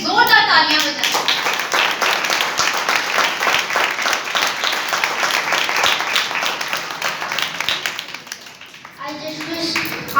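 Sustained loud clapping from a church congregation, dense and rhythmic, fading near the end as voices return briefly at the start and finish.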